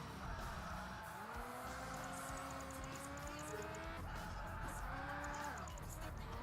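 A Ferrari driving in the Project Gotham Racing video game, its engine droning steadily and rising in pitch through gear changes, with tire squeal over a constant game soundscape and no talk.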